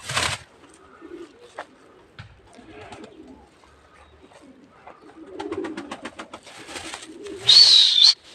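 Soft, low pigeon coos come and go close by amid quiet outdoor ambience, with brief rustles and a sharp bright chirp near the end.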